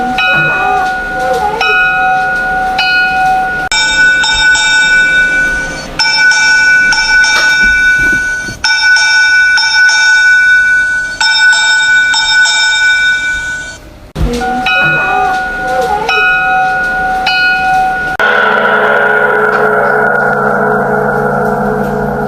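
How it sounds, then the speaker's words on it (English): A ship's bell signals a vessel aground: separate, distinct strokes alongside rapid ringing, loud and ringing in clear bursts with brief gaps between sequences. "give 3 separate and distinct strokes on the bell immediately before and after the rapid ringing of the bell"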